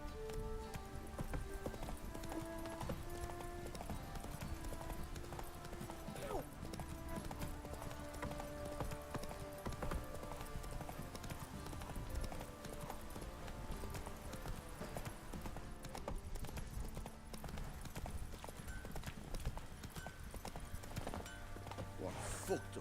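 A horse gallops in The Witcher 3: Wild Hunt Next Gen, its rapid hoofbeats running steadily through dense game music and ambience.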